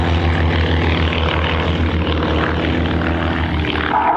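Two airshow aircraft fly a mirror pass, one inverted above the other, at the 2024 Blue Angels Homecoming Airshow. Their engines make a loud, steady, close droning roar.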